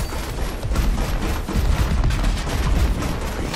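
Sustained gunfire in the team shooter Overwatch, a steady dense barrage of overlapping shots and impacts filling the whole stretch at a consistent, fairly loud level.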